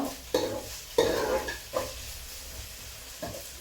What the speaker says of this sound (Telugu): ఆయిల్ వేసిన తర్వాత ఆనియన్స్, టమాటో, ఉల్లిపాయ ఇట్లా వేయించుకోవాలి